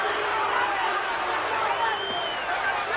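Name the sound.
crowd booing at a boxing match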